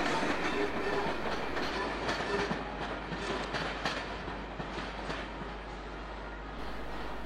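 A British Rail Class 83 electric locomotive, number 83009 from Willesden Depot, rolls along the line with steady rhythmic clickety-clack of wheels over rail joints, fairly faint and distant, no voices.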